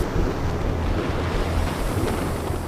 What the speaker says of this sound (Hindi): समंदर की उफनती लहरों के बीच जहाज पर कमांडोज मिशन पर थे।